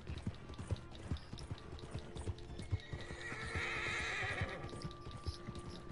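A horse in Red Dead Redemption 2 whinnies once mid-clip while a quick, irregular clatter of hooves continues throughout, fairly faint and with no talk.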